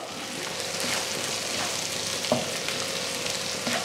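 Ginger garlic paste with capsicum and onion sautés in a hot pan, a continuous close sizzle broken by occasional stirring clinks and scrapes of the spoon.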